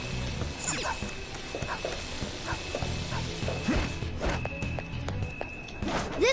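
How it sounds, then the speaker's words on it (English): A puppy in Persona 5 Royal whimpers and yips in short bursts over busy game music and effects, its cries rising briefly above the mix in the middle and near the end. "Puppy!"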